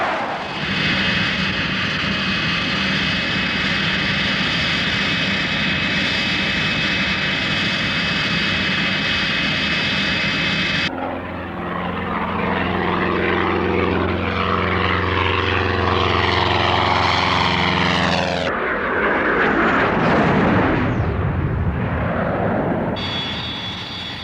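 A Hawker Siddeley Trident airliner's jet engines roar continuously, loud and close, with the pitch and tone shifting as the aircraft passes overhead and recedes, then surges again near the end; no voices.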